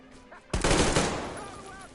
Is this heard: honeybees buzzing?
no